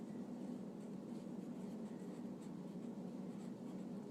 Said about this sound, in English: the first word that I'm going to write is scientific